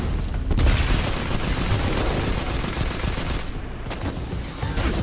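Gunfire in the video game Destiny 2, a dense, loud, continuous barrage of rapid shots with a brief lull near the end before firing resumes.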